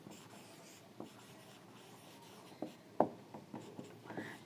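A pen writing on paper in a student's copy during a physics lesson, faint soft scratches with a few sharper taps in a quiet room.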